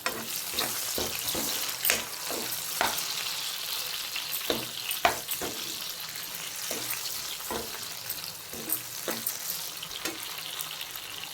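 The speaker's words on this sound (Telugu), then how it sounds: "చూడండి ఫ్రెండ్స్, టమాటాలు ఏగిపోయినాయి" Tomatoes frying in a pan for capsicum fry give a continuous close sizzle broken by repeated sharp clinks and scrapes of stirring, with no talking.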